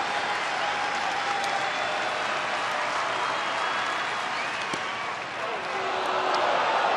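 A crowd of around 24,000 at a Mariners at Rangers baseball game applauds in a dense, sustained roar of clapping and cheering, steady and broad throughout with a brief slight dip near the end.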